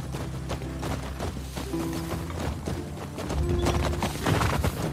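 Horse hooves clip-clopping in the video game The Last of Us Part II, a steady walking rhythm of soft close thuds over ambient game background, with no speech.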